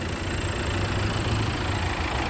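A car engine idles steadily with the heater running during a coolant leak repair, a continuous low hum with a faint high whine, alone and unchanging throughout.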